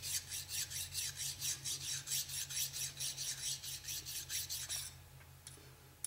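A hand file rasps back and forth on an old Venetian glass bead in quick, even strokes, close and gritty, about four per second for roughly five seconds before stopping, with a few faint clicks after.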